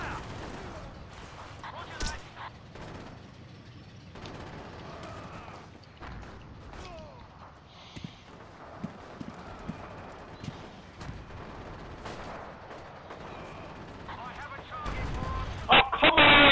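Gunfire in the WWII game Forgotten Hope 2 during a battle at Tobruk, scattered distant shots and bursts with mechanical clanks throughout, a person talking over it, and a loud close burst near the end.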